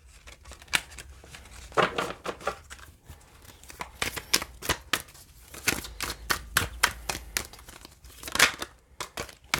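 Rider-Waite tarot cards riffled and shuffled up close, a busy run of papery flicks, slaps and rustles in uneven bursts, ending with cards being handled and drawn.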